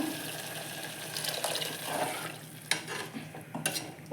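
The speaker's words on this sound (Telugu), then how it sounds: "ఇప్పుడు తగినన్ని వాటర్ వేసుకునేస్తాము" Water pours into a pot of cooked dried green gram with a soft, steady splashing, quiet and close, followed by a few clinks and stirring sounds.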